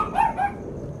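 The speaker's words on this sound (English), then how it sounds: "what are you barking at, dude?" Dog barking in a home, a couple of sharp yelps close by, with the barks fading into a lingering noisy background.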